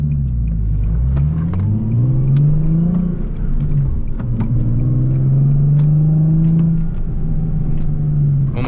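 A Nissan 370Z Nismo with upgraded Akebono brakes is driven hard to heat them up. The engine roars nearby, with revs rising and falling as it accelerates and eases off, alone and steady throughout.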